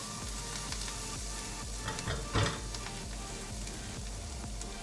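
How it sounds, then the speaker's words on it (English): Vegetables sizzle and fry in coconut oil over high heat in a pan, a steady close crackle with a brief louder burst partway through, no voices. "So we have all these vegetables cooking down."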